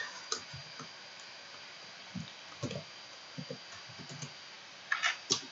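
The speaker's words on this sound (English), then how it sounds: "Okay, I click the start button." Sparse, faint mouse clicks on a computer while setting up a CodeceptJS test, a few single and paired ticks spread across the span, with a tighter cluster of clicks near the end and no talking.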